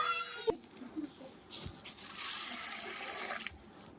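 Sago pearls being rinsed by hand in water for a sago-vermicelli payasam: a soft splash and slosh of water building into a steady broadband washing sound, close and moderately loud, with no talking.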